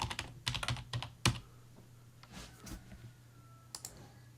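Computer keyboard typing in short irregular bursts of clicks, close and moderately loud, with pauses between keystroke clusters and no talk.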